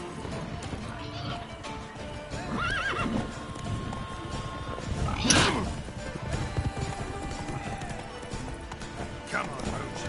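Roach, the horse in The Witcher 3, galloping with rapid hoofbeats and a loud whinny partway through, amid game action noise and someone talking over it.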